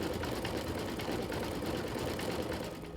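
An embroidery machine fitted with a sharp sewing needle stitches a design into upholstery fabric held in a hoop, a dense rapid needle chatter running continuously and close by.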